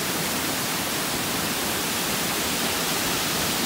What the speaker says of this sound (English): So there is the small falls. They go down into that big cavern.